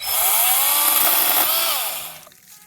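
A Kobalt mini chainsaw cuts a fruit tree branch, a loud, high buzzing whine that holds steady for about two seconds and then winds down as the cut finishes.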